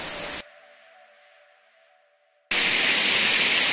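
A dense, hissing roar of a waterfall at Las Cascadas Paraíso in Puebla, close and loud, drops to near silence for about two seconds and then returns at full strength.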